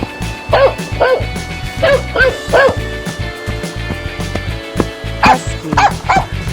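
A cartoon dog barks in a series of short, bright yips, in two bursts with a pause between, over a steady backing of upbeat children's music.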